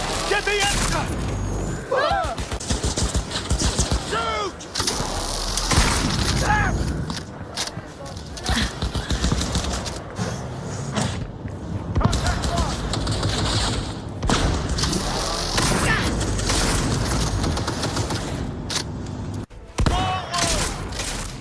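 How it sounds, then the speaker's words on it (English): A long Cyberpunk video game shootout with a shotgun: repeated heavy blasts, thuds and bursts of fire go on almost without pause, mixed with footsteps and speech from in-game characters. "There's a shotgun shootout."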